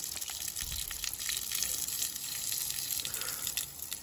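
Water flowing from a pipe through a small opening at increased pressure, a steady close hiss and gush that stays even and fairly loud throughout, with no talk.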